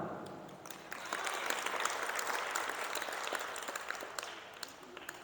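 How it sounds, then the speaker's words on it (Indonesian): A church congregation breaks into sustained applause during a sermon, many hands clapping in a dense, steady wash that holds evenly throughout. "Jangan tanggung-tanggung kalau mau tepuk tangan."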